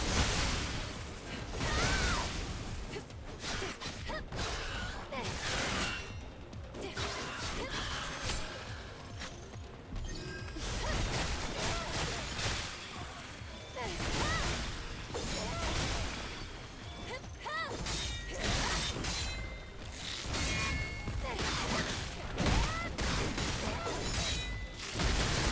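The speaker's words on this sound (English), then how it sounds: "It sounds like an explosion every time we hit him." Combat in the Stellar Blade video game, with repeated explosion-like impact hits landing on a crab enemy amid loud, dense whooshes, crashes and mechanical effects that continue without pause.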